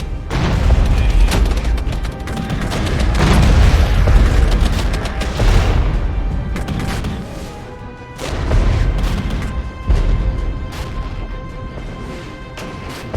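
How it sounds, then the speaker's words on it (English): In the video game Regiments, artillery fire and explosions thud in deep, loud bursts. Crashing impacts swell and fade in several waves, with a sharp blast near the end. "Here comes the artillery."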